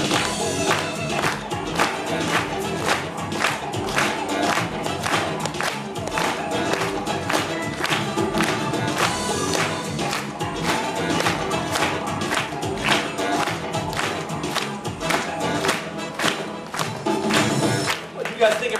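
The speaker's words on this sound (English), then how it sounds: "How about we help out just by clapping along to the beat?" A Disneyland audience claps and cheers through a lively stretch while ASIMO dances, steady dense applause with rhythmic thumps layered over music, crowd noise continuous and fairly loud throughout.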